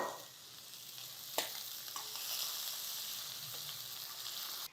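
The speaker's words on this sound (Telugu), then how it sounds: "ఒక ఉల్లిపాయ సన్నగా ముక్కలు తరిగేమో అవి వేసేస్తున్నాను." Thinly sliced onion frying in a pan for masala khichdi, a steady soft sizzle close by with a few small crackles and no talk.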